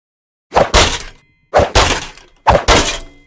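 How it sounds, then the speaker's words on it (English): A designed sword-swing effect plays three times in a row, loud and close. Each one is a quick whoosh followed straight away by a heavy thump, with short pauses between them. "And you now have the swinging of a sword."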